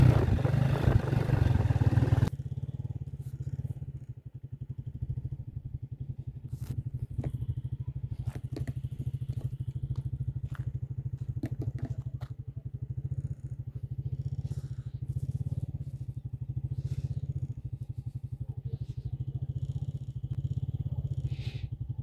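A motorcycle rides at night on a street during a countryside vizcacha and dove hunting outing, its engine a steady close drone throughout with scattered clatter and crackle over it and no talk.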